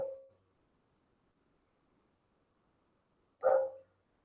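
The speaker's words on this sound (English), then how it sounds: "the gardeners are next door, so my dog is just going crazy" A dog barks twice, about three seconds apart, at gardeners next door: single sharp, fairly loud barks indoors with silence between them.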